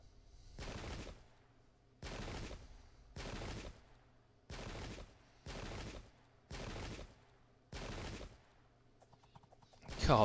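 Seven evenly spaced musket volleys crack out in Pike and Shot, a Great Turkish War battle with Polish forces, each a broad rolling burst of massed black-powder fire about a second apart, loud and clear with no talk over them.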